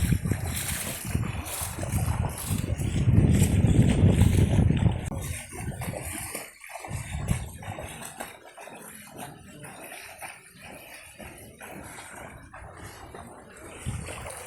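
Fishermen's rowboats being pushed along a flooded road in Pulinkunnu village, Alappuzha, with a steady wash of water and wind, scattered splashes and knocks, busier and louder in the first half.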